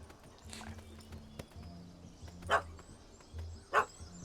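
Dog barking in The Witcher 3 video game, a few sharp barks spaced apart over quiet background with soft clip-clop-like thuds, moderately near.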